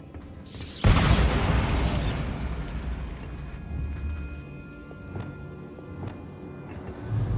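A Bombarda spell explosion in Hogwarts Legacy bursts with a sharp, loud boom and then a long rumbling decay, with smaller crackles and debris sounds trailing off.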